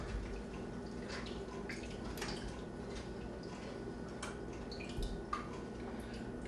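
Beef broth soup simmers in a pot with a low steady bubbling bed and scattered soft drips and pops, close and quiet, no talking over it.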